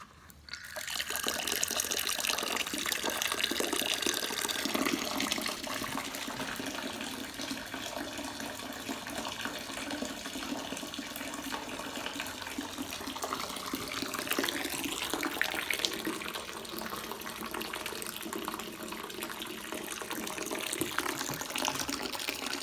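Steady running water pours and trickles for over twenty seconds while grains are sparged to rinse out sugars for a homebrew farmhouse lavender ale, a continuous close, even wash with no talking.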